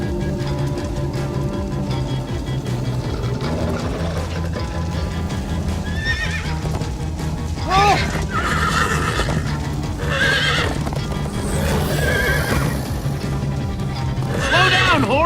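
Horses neigh and gallop in Minecraft: Story Mode, with continuous clip-clop hoofbeats under several loud whinnies throughout and a dense game soundtrack behind.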